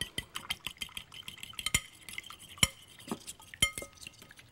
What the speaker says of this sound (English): Now to the meat, I'm gonna add some bread real quick with a fork.